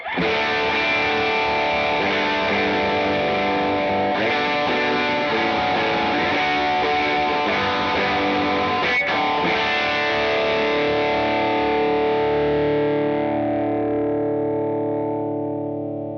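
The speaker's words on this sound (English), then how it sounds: "This is one of my favorite overdrives." A sustained electric guitar chord heavily distorted by a high-gain overdrive, loud and thick, ringing out and slowly fading at the end.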